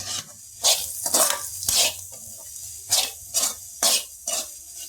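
Bitter gourd masala frying in oil, Andhra style: a soft background sizzle broken by repeated bright scraping strokes of a spatula in the pan at an irregular rhythm, close by and without speech.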